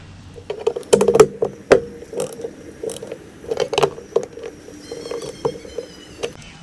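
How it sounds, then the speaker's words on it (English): Screws go back into an Amyet G60 electric scooter, heard as close, irregular metallic clicks, rattles and ratcheting taps of hand tools and parts spread across the whole stretch, with no talking. "we're gonna currently put all the screws back in now"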